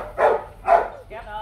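Rottweiler puppies give two short, close barks in quick succession, followed by a brief higher whimpering yip.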